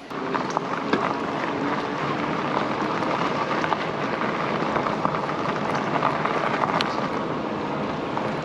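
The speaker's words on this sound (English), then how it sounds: "And that's rain right there" Rain falls steadily with a constant patter and hiss, scattered sharper drops ticking on a surface nearby, and no talking.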